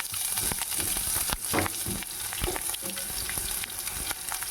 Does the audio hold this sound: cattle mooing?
no